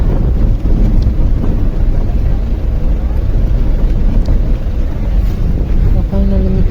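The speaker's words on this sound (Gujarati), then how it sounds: "મજા જ આવ્યા કરે પવન આવતો હોય બારીએથી" Two short clusters of sharp, high frogmouth and owl calls ring out at night at Thattekad Bird Sanctuary, separated by quiet, then a steady hiss of running water takes over.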